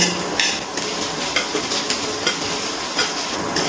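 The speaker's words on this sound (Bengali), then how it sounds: "এবার আমি আদাটা খুব ভালো করে তেলের মধ্যে নাড়াচাড়া করে ভেজে নিচ্ছি" Crushed ginger frying in hot oil in a pan as it is stirred: a steady close sizzle broken by repeated scraping strokes of a utensil, with no voices.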